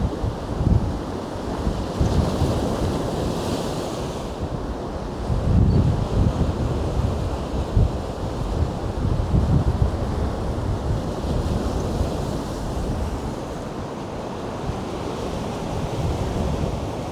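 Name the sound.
sea waves breaking on the shore with wind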